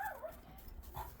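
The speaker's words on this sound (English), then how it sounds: "I had to get the little dog inside because she's making way too much noise and Ben has to sleep." A small dog barks and yips a few times in quick succession outdoors, the sharp calls fairly close and set against a low background murmur, with no talking.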